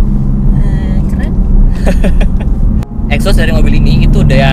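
BMW M4 Competition fitted with an FM exhaust, deep loud rumble idling and revving in the background while people talk close by over it.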